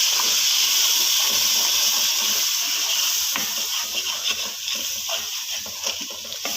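Water poured into a hot pan of cooking aloo gobhi sizzles with a loud, steady steam hiss. Crackles and small splatters run through it continuously, with no talking.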